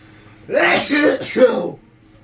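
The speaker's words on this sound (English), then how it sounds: "My apologies on the sneeze" A single voiced sneeze-like burst, close and loud, lasting about a second with a brief catch in the middle, then quiet.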